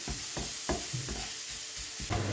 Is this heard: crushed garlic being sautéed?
yes